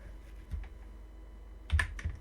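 Computer keyboard shortcut presses for a paste command, a few soft clicks and then a louder close cluster of keystrokes near the end, with no talking.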